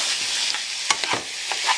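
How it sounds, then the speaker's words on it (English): Butter and garlic fry in a pan stir-fry style, a close steady sizzle broken by a few quick stirring scrapes. "Basically, this is almost like a stir fry. Just want to brown it a little bit."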